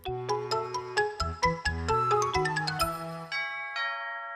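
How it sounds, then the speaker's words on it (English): A bright, chiming electronic doorbell melody rings out, a run of clear tones stepping along before the last notes fade away. "That afternoon the doorbell rang"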